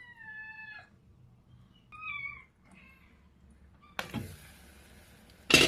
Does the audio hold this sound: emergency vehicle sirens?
no